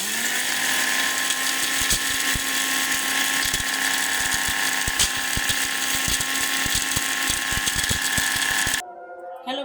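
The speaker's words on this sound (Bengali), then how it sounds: "আমি জিরাটা ব্লেন্ডার করে নিচ্ছি" Roasted cumin being ground in an electric blender, a loud, steady high-pitched motor whine with rattling grinding that runs for about nine seconds, then cuts off abruptly.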